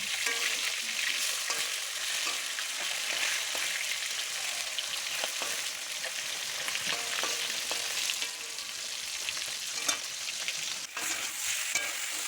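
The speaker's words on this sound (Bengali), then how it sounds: "তারপরে এই যে সবজি দিয়ে ভালো করে কষিয়ে নিচ্ছি, কষে গেছে প্রায়" Potato, plantain, drumstick and tomato sautéing in a pan for a fish curry, giving a dense, even sizzle broken by soft scraping stirs, with no one speaking.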